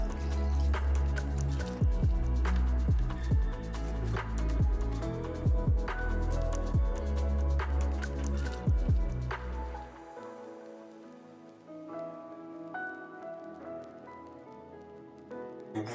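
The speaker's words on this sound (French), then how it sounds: "Une fois l'œuf rajouté, vous pouvez commencer à mélanger. Et vous rajoutez délicatement un petit peu d'eau." Buckwheat batter for Breton galettes mixed with a small splash of water added: wet squelching and dripping of thick batter stirred close by, steady for about ten seconds, then fading to softer, quieter sloshing.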